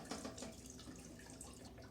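Water pours steadily into a small steam engine during setup, a light trickling and splashing that runs for a couple of seconds with no talking.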